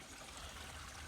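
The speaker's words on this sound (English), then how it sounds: "the water's flowing again after an inch of rain." Water flowing after an inch of rain makes a soft, steady trickling rush, faint and continuous with no voices.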